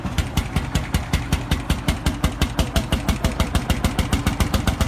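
A vintage hot-bulb engine runs on heavy oil with a loud, close, rapid and very regular thumping beat, each firing a sharp knock over a deep rumbling drone, with no voices.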